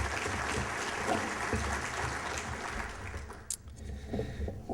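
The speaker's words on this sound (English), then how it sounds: "I hope you'll join with me in offering a round of applause for all the good work she has done" An audience at an annual meeting claps together. The applause is a dense, fairly faint patter that fades toward the end, heard from across a room.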